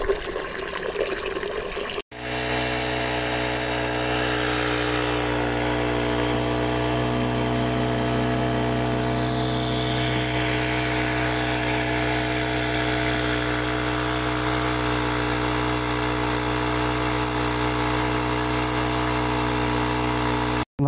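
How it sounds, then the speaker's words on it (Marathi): An engine-driven crop spray pump runs on a tomato farm, settling after a brief start into a loud, steady droning hum with a trickling water sound that continues unchanged for about eighteen seconds. "पंप आणला, पंप जोडला इकडं."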